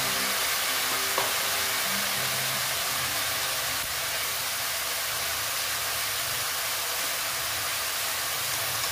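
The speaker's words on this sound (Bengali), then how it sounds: "বেগুনগুলো দিয়ে বেগুনটার সঙ্গে আমি মশলাগুলো ভালো মতন কষিয়ে নিচ্ছি।" Eggplant pieces fry with spices in a pan, giving a steady, dense sizzle and hiss that holds evenly throughout with occasional faint stirring, no voices.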